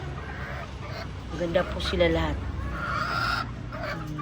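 Several hens cluck and honk nearby in short bursts, mixed with someone speaking casually over the flock.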